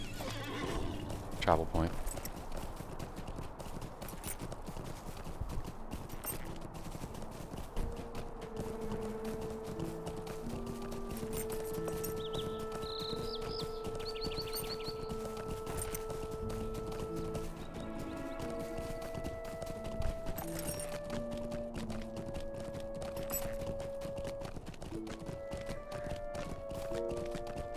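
A ridden horse in a video game, hooves clip-clopping steadily with whinnies, under a voice talking and game music with melodic tones.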